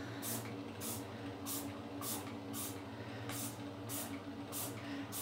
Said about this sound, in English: I'm going to get my spray bottle and just do the same again, just sort of spray down the shirt